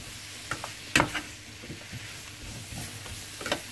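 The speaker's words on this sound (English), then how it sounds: "spices and onions and give it a nice stir, and you have to stir it for 1 or 2 minutes" Spices and onions sizzle softly in a cooking pot for a vegan English gourd curry while a spoon stirs them, scraping and knocking at the pot in sporadic strokes with a sharp clack near the start, fairly faint and close.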